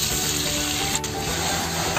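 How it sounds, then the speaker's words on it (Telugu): A spoonful of ginger, cumin and garlic paste is stirred into onions frying in a pan, giving a steady loud sizzle with scraping stir strokes, no voices. "ఇప్పుడు ఒక స్పూను అల్లం, జీలకర్ర, వెల్లుల్లి మిశ్రమాన్ని వేసి బాగా కలుపుదాము."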